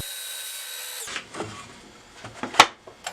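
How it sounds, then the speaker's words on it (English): Power saw cutting 1 3/8 inch scrap wood pieces to length for a sign: a loud whining cut ends sharply after a second, followed by close clunks and knocks as the pieces are handled. "I started by cutting pieces of 1 3/8 inch scrap wood to 13 3/4 inches."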